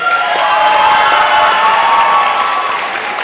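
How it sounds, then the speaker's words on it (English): Loud, sustained applause and cheering from a large community audience for Army, Army Reserve and Army National Guard enlistees, dense clapping mixed with shouts and whoops, close and continuous throughout. "One more huge round of applause."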